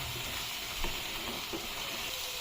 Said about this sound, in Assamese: ডাঠাখিনি দি দিলো এইখিনি কিছু সময় ভাজিম